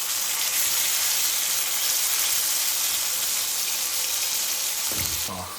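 Goan-style bangude (mackerel) fry sizzling in a pan, a loud continuous hiss of hot oil that runs steadily, with a few clattering handling sounds near the end.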